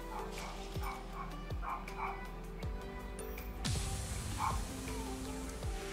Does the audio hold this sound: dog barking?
yes